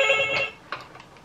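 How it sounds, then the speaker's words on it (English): A telephone rings indoors with a short, bright electronic ring burst up close, then fades to quiet room noise. "Oh, there's the phone."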